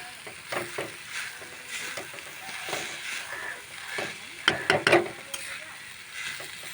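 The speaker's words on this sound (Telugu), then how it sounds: "అయితే గోల్డ్ కలర్లోకి వచ్చేంత వరకు ఫ్రై చేసుకోవాలి." Grated coconut fries in a little oil while a spoon stirs and scrapes the pan, soft sizzling with repeated scraping strokes and a louder clatter near the end.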